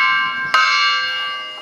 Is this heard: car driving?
no